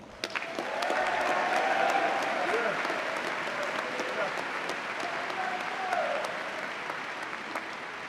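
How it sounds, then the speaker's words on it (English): Audience applause fills a ring figure presentation for cadets at the Virginia Military Institute, honoring Command Sergeant Major Rubenstein; steady, dense clapping from a large crowd holds for about eight seconds with faint voices mixed in. "I'd like to give her a round of applause."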